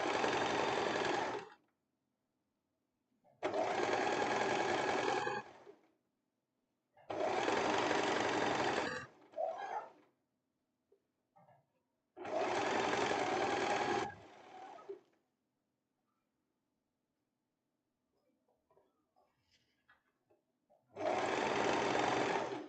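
Sewing machine stitching a handkerchief hem on fabric, running in four or five loud bursts of a few seconds each, separated by quiet pauses with faint handling noises.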